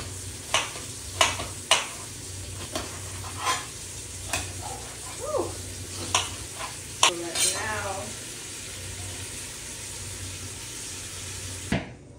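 Pork neck bones browning in a pot on the stove give a steady sizzle and frying hiss, broken by scraping stirs and clinks of a utensil against the pot, with a brief high voice-like squeak near the middle.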